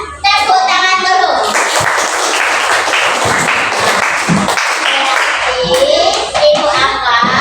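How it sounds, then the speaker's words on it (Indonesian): Students in a classroom clap together, a loud, close burst of rapid hand claps mixed with children's voices and chatter that carries on across the whole stretch. "Tepuk tangan dulu."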